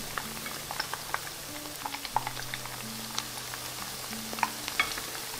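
Shrimp and sweet potato fritters deep-fry in hot oil over high heat, a soft steady sizzle with scattered small pops and crackles, fairly quiet and close, with no talking.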